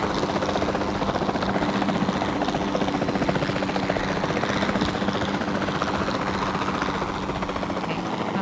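Helicopter flown in the video game Jurassic World Evolution 2: a loud, continuous rotor and engine drone with steady chopping texture, filling the whole stretch without pause.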